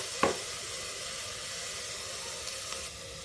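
Water poured into a hot pot of black urad dal for sagpahita gives a short splash, then a steady, soft steaming hiss and sizzle that carries on alone.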